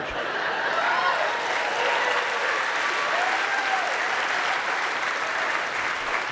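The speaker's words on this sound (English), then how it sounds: "I always hate that applause" Audience applause fills a standup comedy show, a dense, steady wash of clapping that holds loud and even throughout, with a few faint cheers mixed in.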